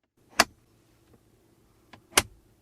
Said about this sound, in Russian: Центральный подлокотник также открывается очень приятно. И слышен приятный звук.